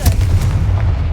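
Confringo fire spell from Hogwarts Legacy bursts in a loud, punchy blast with a sharp crack like gunfire, followed by a sustained low rumble, close and forceful.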